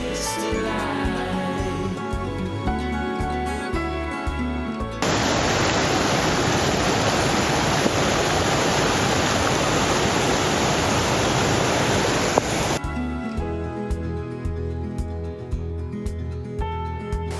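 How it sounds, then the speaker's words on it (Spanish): Small waterfall in Chefchaouen, Morocco, a loud broad rushing splash of falling water that bursts in abruptly for about eight seconds between quieter stretches of other sound. "Miren lo que es la pequeña cascada que así marcaba el mapa."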